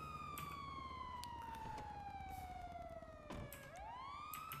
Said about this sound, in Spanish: Se ha dejado la sirena encendida.